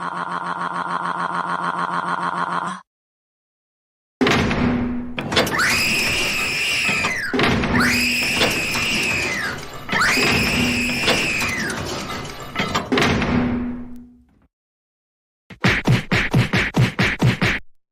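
A child's shrill, sustained screaming cuts in repeatedly over loud bangs and clatter of slamming doors, ending with a burst of sharp knocking thuds.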